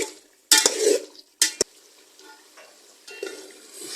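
Chicken frying in a pot is stirred with a utensil in two short bursts of scraping and clatter over a faint sizzle, close by, with no talk.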